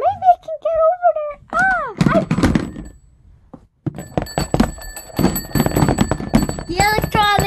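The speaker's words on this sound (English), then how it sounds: "There's an alarm." A bright repeating electronic alarm rings in a store electronics section during a chaotic Black Friday sale, sharp tonal beeps over clattering thumps and people talking nearby.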